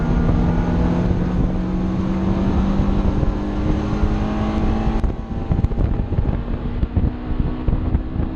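A race car engine revs and drones on a circuit during a Gridlife Alpine festival track session, a steady loud roar buffeted by wind noise on the microphone.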